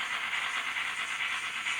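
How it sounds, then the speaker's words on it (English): A local passenger train pulls into a model railway station, giving off a steady, even hiss and whir with a faint rattle, moderately close and constant, with no voices. "So the local passenger train is about to come in and do a stop here."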